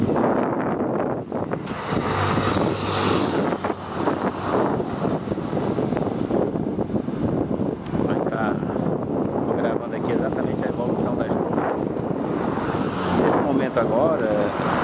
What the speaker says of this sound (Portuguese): Agora o vento já está ficando bem frio